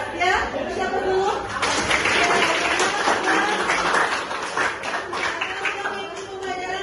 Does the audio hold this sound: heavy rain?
no